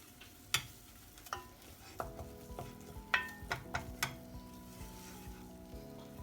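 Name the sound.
seafood filling cooking in a hot pan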